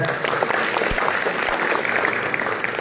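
An audience at a school extracurricular inauguration talk show claps steadily for nearly three seconds, dense and even, with a couple of low thumps mixed in.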